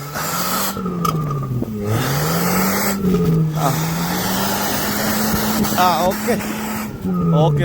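A car's engine revs in sweeping rises and falls as it is rocked back and forth to free it from heavy snow in Moscow, loud and close, with people talking over it.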